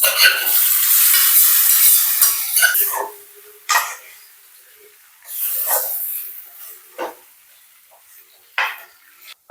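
Curry leaves hit hot oil in a pan with a loud, bright sizzle that fades over a few seconds, followed by intermittent scraping stirs and clinks against the pan during home cooking.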